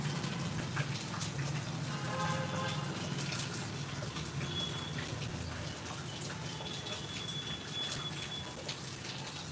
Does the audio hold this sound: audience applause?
no